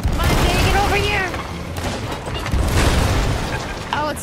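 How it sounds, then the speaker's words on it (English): Ship cannons firing during a naval battle in the pirate game Sea of Thieves, heavy booms in a loud churning mix, with voices calling out over the blasts. "Fire them cannons!"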